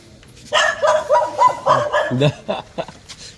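A dog barks repeatedly in quick, close bursts during an elephant encounter at a home, mixed with people's voices.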